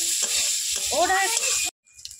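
Spices sizzle and crackle in a hot wok, with stirring under a steady frying hiss before the sound cuts off abruptly, leaving near silence.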